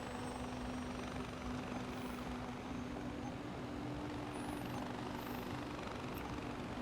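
A helicopter in the video game Far Cry 4 drones steadily with a constant rotor hum and engine whine, loud and unbroken throughout with no talk over it.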